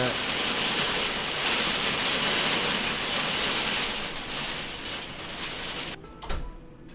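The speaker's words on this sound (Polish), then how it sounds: "niestety u mnie się strasznie burza rozpętała i deszcz bije w okno" Heavy rain driven against a window during a thunderstorm, a dense, steady roar that fills the whole clip and thins out near the end, with a voice faintly present.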